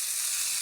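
Cabbage, potato and sesame fry in a pan, giving a steady, close, bright sizzle with no other sounds.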